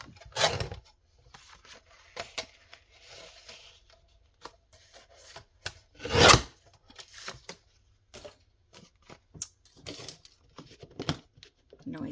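A paper cutter trims sheets for a junk journal: a couple of loud rasping slices stand out among softer paper rustles, taps and crinkles, close by and with no talking.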